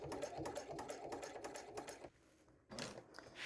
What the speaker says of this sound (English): you can go back and sew a second stitch line and or reinforce just over the connector here